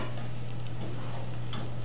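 Eggs cooking with frozen corn in a wide frying pan give a steady, close sizzle and crackle, with a brief stirring scrape partway through and no talking.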